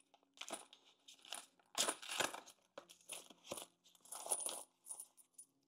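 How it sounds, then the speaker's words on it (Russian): Four metal slot-machine tokens handled and dropped one after another, bright clinking and jingling in several close bursts with quiet gaps between them, alone without talk. "Четыре монеты в игровые автоматы"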